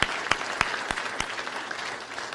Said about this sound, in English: Clap, come on, let's give our student athletes.